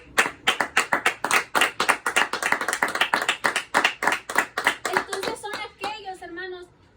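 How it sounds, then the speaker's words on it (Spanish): A congregation at a church service claps in a steady, rhythmic unison beat, loud and close, for about five seconds before it tapers off under a voice. "vamos a darle un aplauso al Señor"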